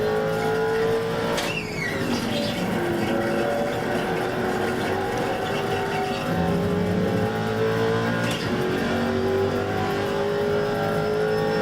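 GTC race cars roar around a track in the iRacing sim, passing a Miata, the engines loud and continuous with pitch sweeps through gear changes and a couple of sharp shifts.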